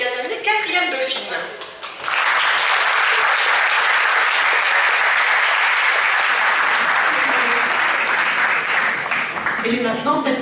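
An audience at a Miss beauty pageant event in Châtillon-sur-Seine bursts into sustained, loud applause after a brief announcement, the dense clapping holding steady for about eight seconds before tapering as the presenter speaks again.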